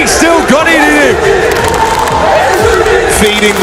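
Loud esports arena crowd roaring and cheering together in celebration after a big play, a dense sustained wall of shouting voices with whoops rising and falling throughout.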